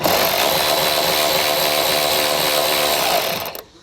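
Loud, continuous whine of a power driver loosening the 8mm nuts on a 2017 BMW X5 taillight, running steadily at close range before cutting off abruptly near the end.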